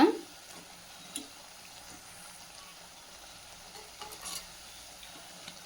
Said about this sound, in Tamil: நல்லா இது போல் கிளறி கிளறி விடுங்க.